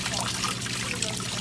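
Fluid trickling and pouring steadily from a drain on a 1940 Ford COE truck, a continuous close splashing wash with a faint voice underneath.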